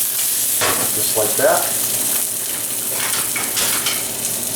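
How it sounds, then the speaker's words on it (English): An egg fries in a pan with a loud constant sizzle, a short scrape and clink as it is flipped, and a brief spoken remark over it. "the egg's starting to get brown around the perimeter. We flip it"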